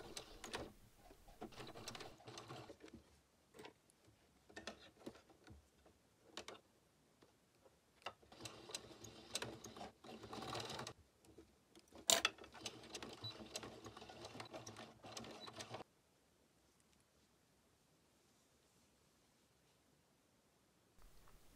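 Sewing machine stitching a fabric dog collar in bursts of rapid mechanical whirring separated by short pauses, close and steady, falling silent for the last several seconds.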